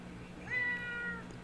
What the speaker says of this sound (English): my cat Wilford wants some attention